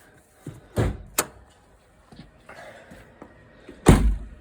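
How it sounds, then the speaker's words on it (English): On a Mitsubishi Outlander crossover SUV, the hood release latch gives a few sharp close thunks and clicks, separated by quiet gaps, with a louder clunk near the end. "Next step is to pop open the hood. The hood release latch is right there."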